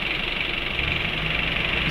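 Owner-type 4x2 Wrangler-style jeep with an Isuzu C240 diesel engine idling, a steady, close mechanical rumble with a faint knocking rhythm and no talk.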